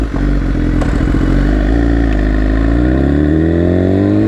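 Loud close engine of a CF Moto off-road motorcycle idling and then revving, its pitch sliding steadily upward, with no talking.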